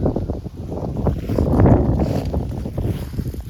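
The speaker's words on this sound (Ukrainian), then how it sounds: "Вітер почався." Wind gusts buffet the microphone in rough, uneven bursts, swelling midway and then easing, with no voices.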